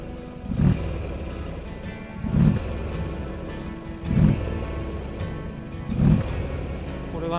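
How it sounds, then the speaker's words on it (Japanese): Buell XB12Ss Lightning Long motorcycle idling with loud intake roar, its V-twin engine pulsing in four heavy swells roughly every two seconds over a steady low rumble, close to the bike. "吸気音がめちゃくちゃ聞こえるっすね、"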